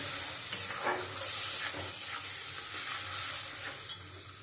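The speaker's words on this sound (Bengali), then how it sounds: "দিয়ে আমি মশলাটা খুব ভালো করে কষিয়ে নেব।" Turmeric, chili, cumin and coriander powders frying in oil for a prawn curry with onion and garlic, a dense, close, continuous sizzle with soft stirring scrapes and no talking.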